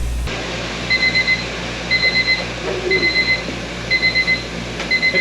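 Timer alarm letting out repeated bursts of rapid high beeps, roughly one cluster per second, loud and close over a low background hum, with no speech.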